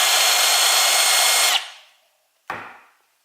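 A Milwaukee M12 FUEL 3/8-inch stubby impact driver (2554-22) spinning freely in mode 2, a loud, steady high-pitched whir for about a second and a half, then winding down, followed by a short second burst that fades.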